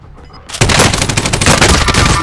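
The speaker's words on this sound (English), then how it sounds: "I'm taking fire." Gunfire in Call of Duty Warzone, sudden and very loud automatic bursts erupting after a brief quiet moment, a dense rattling barrage up close.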